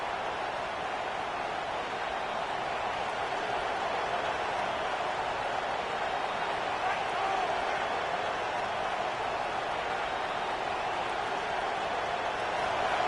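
Steady roar of a home stadium crowd at a football game as the defense pins the offense deep, a broad continuous wash of voices holding constant level throughout with no individual sounds standing out.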